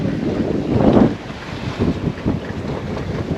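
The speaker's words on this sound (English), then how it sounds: "About 11 knot wind current." Wind buffets the microphone on a sailboat under sail in about 11 knots of wind, a loud rushing roar with gusty swells and faint water wash underneath; no speech.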